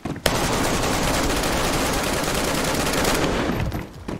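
Sustained burst of automatic gunfire in the DayZ survival game, a dense, loud, continuous rattle of shots lasting several seconds with no talking over it.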